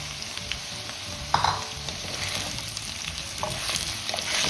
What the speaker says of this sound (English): Once your potatoes are a little fried, now we put in our cauliflower.